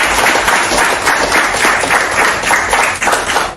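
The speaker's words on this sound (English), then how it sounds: "give yourself a applause" Loud, close, sustained applause from a team and its audience celebrating their performance, thick continuous clapping from start to finish.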